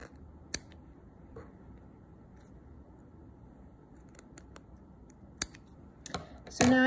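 Scissors snip through pipe cleaner for a craft spider, making a few faint, isolated clicks over a quiet background, ending with a louder, closer cut.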